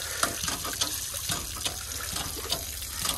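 Water from a hand pump gushes and splashes steadily, close by, with small irregular bursts and no talking.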